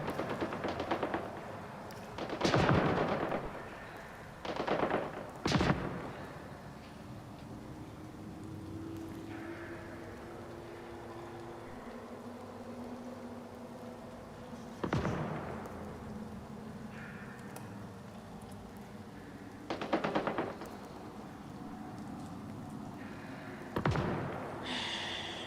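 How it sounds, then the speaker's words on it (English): Distant gunfire from outlaws shooting in Mass Effect Andromeda, a handful of dull, muffled bursts spaced several seconds apart over a low ambient hum, fairly faint with no talking. "bet shooting's probably a bunch of outlaws. Maybe even shooting each other over Remtech"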